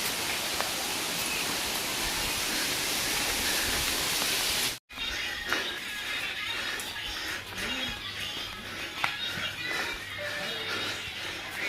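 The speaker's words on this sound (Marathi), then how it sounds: "धबधबा" A waterfall in hilly country near a temple, a dense, loud roaring rush that cuts off abruptly midway and returns as a quieter, more distant wash.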